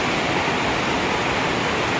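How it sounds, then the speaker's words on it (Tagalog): Heavy, unbroken rain pours down steadily and loudly, a dense wash of hiss with no pauses, no other sounds. "Lakas na naman ang ulan."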